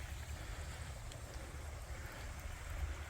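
A creek running at its highest flow after heavy rain, making a steady broadband rushing wash with deep rumble and some wind buffeting, constant and fairly close throughout.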